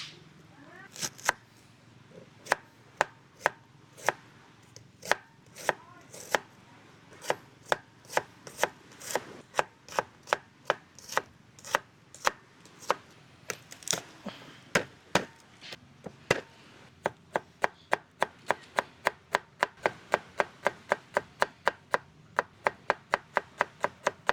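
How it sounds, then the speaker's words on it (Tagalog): A knife slices an onion on a board at a campsite, giving crisp, close chops in a steady rhythm that speed into a rapid run toward the end, with no talking. "Hiwa tayo ng sibuyas."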